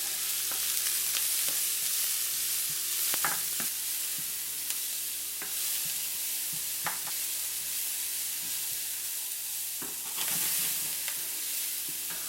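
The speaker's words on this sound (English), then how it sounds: "Then you kind of mix them up." Diced onion and red pepper sizzle and fry in a pan for spicy salt and pepper spare ribs, with a steady hiss broken by repeated sharp scrapes and clicks of a utensil stirring them.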